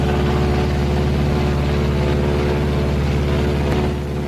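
A B-26 airplane flying on a single engine at about 4,000 feet produces a loud, constant low engine drone with a steady throbbing hum and no breaks.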